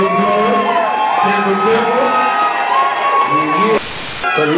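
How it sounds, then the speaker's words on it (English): A loud hip-hop show crowd cheers and shouts with whoops and raised voices, a dense roar near the stage, with a sudden burst of hissing noise near the end. "Everybody give them a round of applause."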